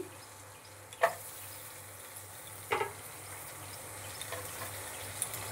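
Chopped garlic frying in melted butter in a pan, a soft steady sizzle punctuated by two clear clatters of a utensil stirring, with a faint low hum underneath.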